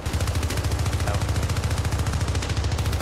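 Rapid automatic gunfire from the video game Syndicate, a dense, steady stream of loud shots with a low pulsing thump running throughout the short burst.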